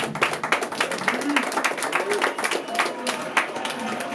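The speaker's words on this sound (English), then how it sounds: "Round of applause for Andy Katz, everyone." Scattered clapping from a modest group at a hip-hop induction ceremony, uneven and brisk, with a few voices murmuring among the claps.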